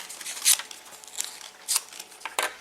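Scissors snipping paper to make an origami poppy flower, a few quick, crisp cuts and crinkles heard close and fairly quiet, spaced irregularly with soft rustling in between.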